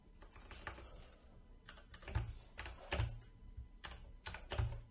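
Fingers type on a computer keyboard in short irregular bursts of close, crisp clicks and taps, some keystrokes landing harder than others, with no voices.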